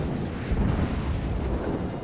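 Secondary guns on the USS Wyoming battleship in World of Warships roar in a dense, continuous low rumble of overlapping booms, loud and steady with a slightly heavier burst near the middle, no voices over it.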